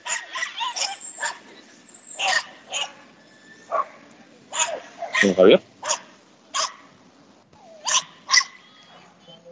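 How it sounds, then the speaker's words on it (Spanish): Small dogs, including a chihuahua, bark in short sharp bursts, some yips and whimpers scattered across the stretch, fairly close, with people talking in between. "los perritos están aquí ladrando y queriendo participar en el podcast con sonido ambiente"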